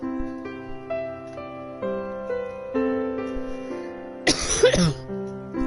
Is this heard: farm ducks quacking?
no